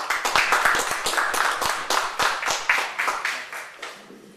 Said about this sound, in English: So can we have a round of applause to welcome Catherine?